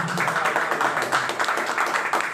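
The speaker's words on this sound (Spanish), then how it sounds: "Un aplauso para el compañero" Crowd at a political gathering in Manchay applauding a speaker, a steady, dense wash of many hands clapping at moderate volume for a couple of seconds, with no talk over it.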